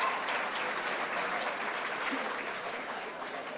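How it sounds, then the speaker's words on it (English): A school awards-night audience breaks into steady applause as a middle school student enters the room, a dense, continuous patter of many hands that fades slightly toward the end. "we're going to clap when she enters the room"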